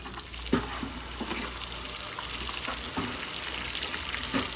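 Camel meat fry is stirred in a pan under a constant hiss of frying, with a few dull knocks and scrapes of the spatula spaced a second or two apart, close by and with no voices.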